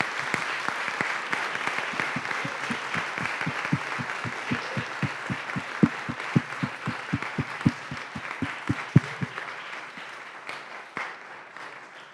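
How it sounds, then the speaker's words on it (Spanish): Audience applause at a natural history lecture at the Chilean Museum of Pre-Columbian Art, steady rapid clapping from a seated crowd that gradually thins out and fades over about twelve seconds. "por favor les pido entonces un caluroso aplauso."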